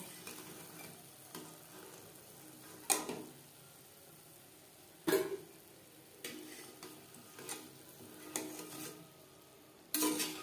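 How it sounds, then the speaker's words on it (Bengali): Chicken patties fry in hot oil with a soft, steady sizzle, broken every couple of seconds by clacks and scrapes of a utensil turning them in the pan. "পরের প্যাটিস একইভাবে ভেজে নেব"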